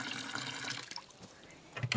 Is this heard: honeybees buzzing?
no